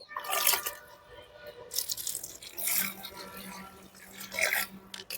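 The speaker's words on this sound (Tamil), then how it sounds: "நல்லா ஒரு 4 மக்கு தண்ணி ஊற்றிடுங்க." Water is poured from a mug onto soil while planting mint, a soft splashing and trickling that comes in several bursts, near and fairly faint, with a voice speaking over it.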